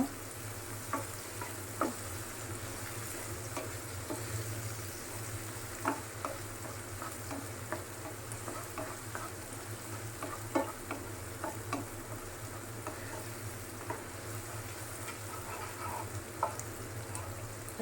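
Flattened rice pulao (chira) frying in a pan with a continuous soft sizzle, broken by scattered scraping stirs and light ticks of the utensil, fairly quiet and close, with no voices.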